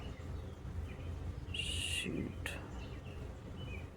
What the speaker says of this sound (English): here come the birds back. And they're beautiful birds, they're babies.